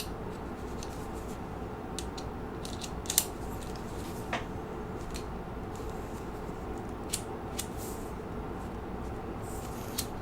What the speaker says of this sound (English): it's like a electric screwdriver. Might as well use it here because these bolts don't seem to require a lot of torque.